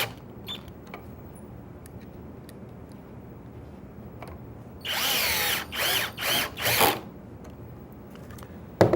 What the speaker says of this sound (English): And then with another driver, drive the screws home.